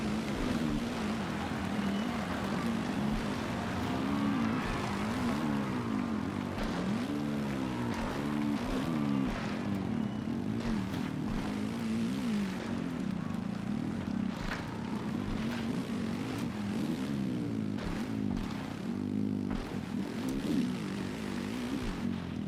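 Dirt bike engines in MX vs ATV Legends, racing the 2023 High Point National track in first person, give a steady buzzing drone that keeps rising and falling in pitch as the throttles work, loud and continuous with no talking.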